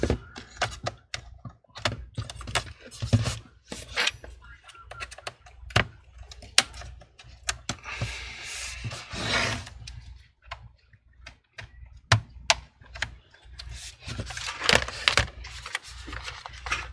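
Plastic trim on an HP 14 laptop being pried open with a tool to reach a hidden screw, giving a close, irregular run of clicks, snaps and scraping rubs with no talk.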